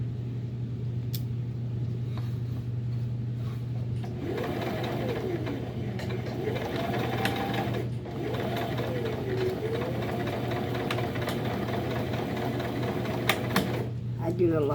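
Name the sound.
sewing machine back stitching fabric Christmas tree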